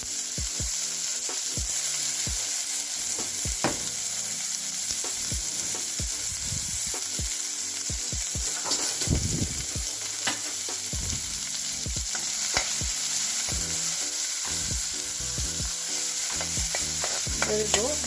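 Onion and green chilies fry in a pan, a continuous loud sizzle broken by repeated scraping stir strokes against the metal.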